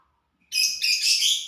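Shrill, high chirping from African lovebirds breaks in after a moment of quiet, rapid overlapping tweets close by and fairly loud.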